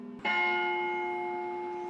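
A single bell in the refurbished bell tower of the Oneida Stake Academy is struck once and rings out loud and clear, its bright tone humming and slowly fading over the following seconds.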